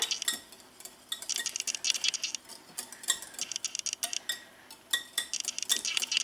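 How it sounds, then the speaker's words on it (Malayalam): Wet ingredients for blueberry muffins are whisked with a spoon or fork in a bowl, producing quick, irregular clinks and taps of metal against the bowl in bursts, close and fairly crisp, with no talking. "ഒരു സ്പൂൺ വെച്ചിട്ട് അല്ലെങ്കിൽ ഒരു ഫോർക്ക് വെച്ചിട്ടും നമുക്കിത് മിക്സ് ചെയ്യാവുന്നതാണ്"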